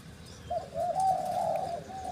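A bird calls with a steady, hooting coo that swells and holds for about a second and a half, fairly close, over quiet outdoor background.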